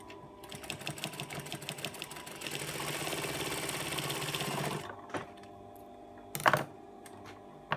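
A sewing machine runs a fast continuous stitch for several seconds as face mask pieces are chained through one after another, then stops, leaving a few soft clicks and handling noises.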